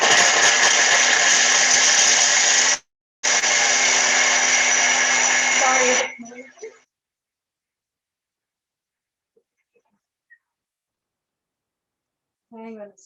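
A food processor milling ingredients in its bowl runs loudly and steadily for about six seconds, breaking off briefly near the three-second mark, then winds down into near silence.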